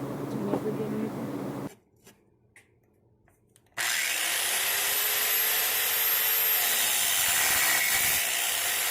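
A 7-inch angle grinder cutting into the floor track of a school bus during a skoolie conversion, a loud sustained whine that starts after a pause of near silence and holds steady, with a voice heard at the start.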